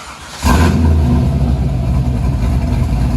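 A 2000 Chevy Corvette with a 5.7L LS1 V8, long-tube headers, Magnaflow dual exhaust and open exhaust cutouts, idles quietly, then kicks into a loud, deep rev and holds a heavy, steady roar nearby.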